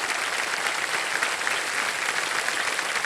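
A studio audience on the KBC Season 17 quiz show applauds in a steady, dense wash of clapping that holds at an even level from start to finish, with no voices over it.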